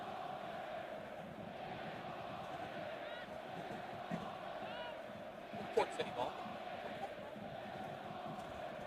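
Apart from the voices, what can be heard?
crowd noise from many fans at a soccer match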